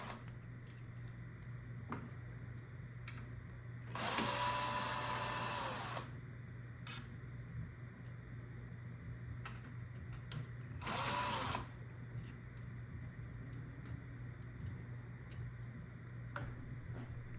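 A power drill backs screws out of a mixing console in two loud whirring bursts of about two seconds and one second, separated by quieter stretches of light ticks and handling under a steady hum.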